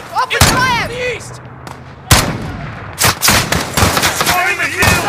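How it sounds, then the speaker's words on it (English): Video game gunfire in Call of Duty Modern Warfare: loud bursts of rifle and machine-gun fire crack repeatedly across a battlefield, with shouting voices between and over the shots. "Philippe, open fire! In the east!"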